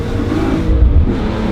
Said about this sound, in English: It revs up so fast.